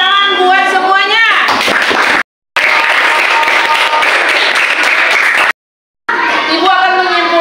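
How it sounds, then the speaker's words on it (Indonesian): Students in an Islamic religious education classroom burst into loud, dense clapping, broken by two brief dropouts, with children's voices chattering over the start and end. "Tepuk tangan buat semuanya."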